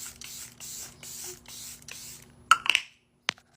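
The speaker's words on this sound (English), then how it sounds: "Setting spray." Makeup setting spray spritzed in a series of about five short, evenly spaced pumps, close to the microphone, followed by a few sharp clicks and taps of the bottle.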